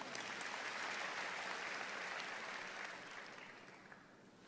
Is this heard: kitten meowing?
no